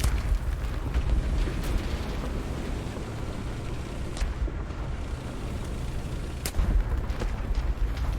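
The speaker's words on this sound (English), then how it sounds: "Oh, there's the artillery fire." Distant artillery fire rumbles through a War Thunder tank battle, a steady low roar of booms with a couple of sharper blasts standing out near the end.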